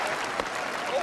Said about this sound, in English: I want a big cheer if he does it.